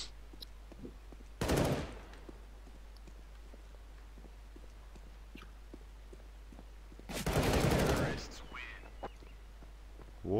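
Gunfire from the video game Counter-Strike: Global Offensive, two loud bursts of rapid shots separated by quieter play with faint clicks and footsteps.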